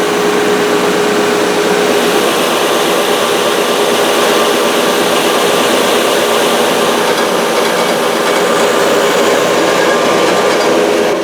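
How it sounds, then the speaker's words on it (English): A thickness sander runs on guitar neck blanks for a double-neck guitar build, giving a loud, continuous close-up roar with a steady hum and no pauses for the whole stretch. "We're going to do that on the thickness sander."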